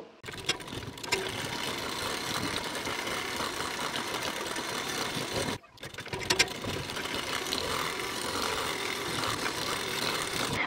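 A sewing machine runs a fitting seam on a blouse in a continuous, even hum that pauses briefly midway and then carries on at the same level.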